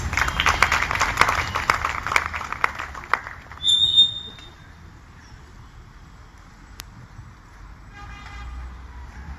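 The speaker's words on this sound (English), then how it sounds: "Give her a warm applause, please." An audience welcomes someone speaker at an innovation and creativity talk with brief clapping that fades within a few seconds, followed by a short electronic tone and quiet room noise.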